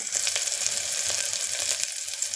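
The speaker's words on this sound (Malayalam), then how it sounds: "തൈ അരിഞ്ഞു വെച്ചിരുന്ന മുളകും ചെറിയ ഉള്ളിയും കൂടെ ഒന്ന് ചെറുതായിട്ടൊന്ന് വഴറ്റിയെടുക്കാം" Chopped chili and shallots sautéing in hot oil for an uppumavu breakfast, giving a steady, close, continuous sizzle with faint stirring scrapes and no voices.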